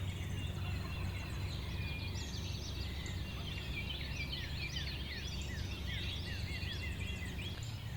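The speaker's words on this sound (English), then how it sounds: "Got multiple birds gobbling." Several wild turkeys gobble at a distance, their rattling calls overlapping with other birdsong and a constant breezy rumble.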